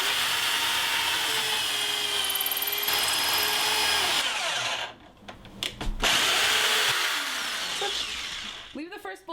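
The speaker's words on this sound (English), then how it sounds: "I screw it in about 3/4 of an inch to the inside of the wood" A power drill whines loudly and steadily as it drives a screw into wood, pausing briefly midway before starting again, with a voice briefly heard near the end.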